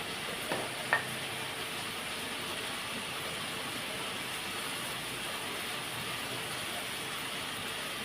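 Spices frying in a pan for a Telugu dish make a steady, even sizzle throughout, with a couple of faint knocks near the start and no talk.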